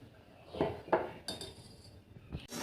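A spoon clinks and scrapes against a pot of payesh, a rice pudding sweetened with nolen gur (date palm jaggery), in a few separate strokes with short gaps between them.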